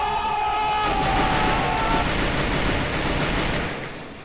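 A sustained volley of gunfire in the video game Free Fire, loud and dense, rattling continuously for about four seconds before fading slightly at the end.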